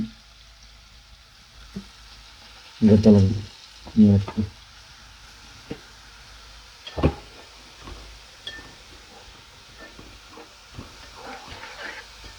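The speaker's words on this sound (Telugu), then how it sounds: "వచ్చేసి మిరపకాయలు, ఉల్లిపాయలు వేపించుకోవాలి." Chillies and onions fry in oil with a quiet, steady sizzle, broken by a few loud bursts of stirring and scraping in the pan.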